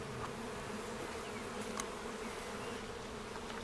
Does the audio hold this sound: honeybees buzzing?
yes